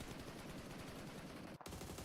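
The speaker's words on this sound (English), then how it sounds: "Just blasting the bullets out, as is Schweppes, who is very low on the ammo count now" Rapid automatic gunfire blasts from a PUBG Mobile esports match, a dense, continuous stream of shots that briefly cuts out near the end and then resumes.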